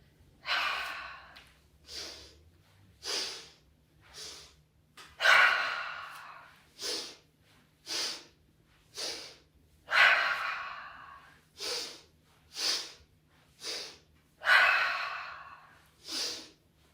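Deep, forceful breaths from a Breath of Joy yoga exercise, with about a dozen strong breathy bursts in a steady rhythm, some longer and louder exhales, close to the mic, with no talking.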